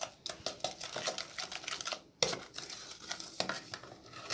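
Pumpkin leaves cake paste being mixed with a utensil in a bowl, a quiet run of quick clicking and scraping strokes in an irregular rhythm.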